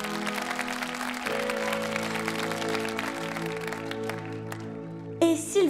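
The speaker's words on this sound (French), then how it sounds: "S'il vous plaît, applaudissez pour ce beau couple." A crowd claps steadily in a dense, continuous wash, with music carrying underneath and a brief melodic swell near the end.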